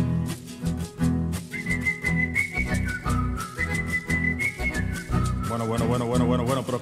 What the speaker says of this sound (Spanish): ¿qué significa ese silbido, hombre?